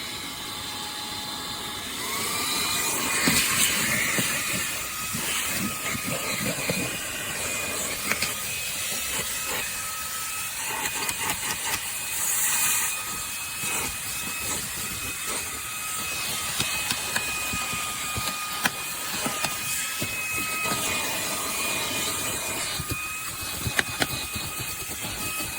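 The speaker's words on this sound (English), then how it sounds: "review time of my Fanttik little vacuum" A Fanttik Slim V8 Apex cordless handheld car vacuum runs continuously with a steady, bright whine and airy hiss, close up, with small clicks and knocks scattered throughout.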